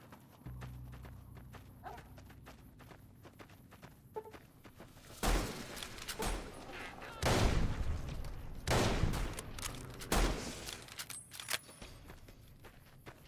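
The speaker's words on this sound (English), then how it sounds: "Use the shotgun." Shotgun blasts in Fallout: New Vegas, several loud broadband bursts in the second half spaced about one to two seconds apart, after a quieter stretch of footsteps and ambient game noise.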